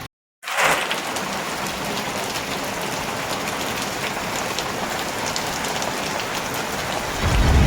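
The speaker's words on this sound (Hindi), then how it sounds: "आम पटे भी प्रबल रु प्रबल वर्षा आसूची तो देखिपे केमिति वर्षा आसूची" Heavy rain pours steadily over a village in Mayurbhanj, Odisha, a dense unbroken hiss of drops drumming on surfaces, close and loud, with a brief silence at the start and no voices.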